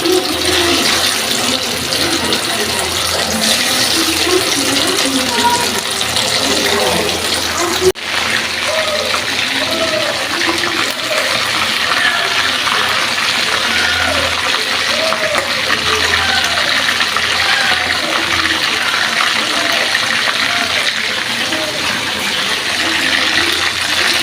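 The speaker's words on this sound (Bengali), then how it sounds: "আমি এখন এই তেলগুলোর ভিতরে ছেড়ে দিব। তেলটা গরম হয়ে গেছে।" Spices coated with coriander powder sizzle in hot oil for a vegetable biryani, a loud, steady frying hiss with crackles that runs throughout while a person talks over it.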